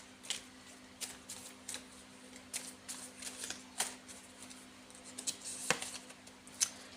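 Tarot cards being shuffled with repeated quick riffles and soft snapping flutters, close up and fairly quiet, in irregular bursts.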